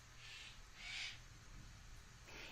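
Soft pet bird calls come in a few fuzzy bursts over a low steady background hum, quiet and close by, with no talking.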